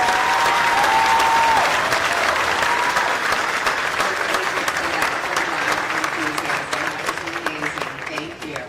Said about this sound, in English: Please, one more round of applause for our band.